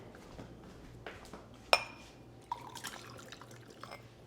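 Dishes set down in a kitchen sink with a sharp clink of crockery, followed by soft trickling water and small scattered knocks, heard close and fairly quiet.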